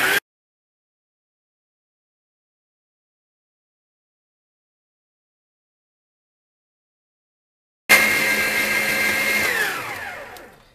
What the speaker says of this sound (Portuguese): vamos deixar bater agora durante 10 minutos na segunda velocidade da máquina